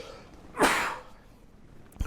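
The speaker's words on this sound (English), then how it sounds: "I'm going to sneeze." A single close sneeze bursts out after a brief inhale, loud and breathy, then fades into quiet room tone, with a faint click at the very end.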